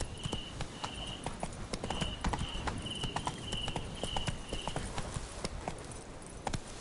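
A horse galloping in The Witcher 3 video game, with rapid, steady clip-clop hoofbeats running throughout, close and clear, over a faint tonal game sound.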